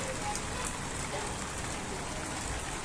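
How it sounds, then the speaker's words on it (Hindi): Hail pelts down heavily outdoors, a dense steady clatter and hiss of many hitting ice pellets, constant and close throughout. "ये देखिए धड़ाधड़ ओले बरस रहे हैं गाइस"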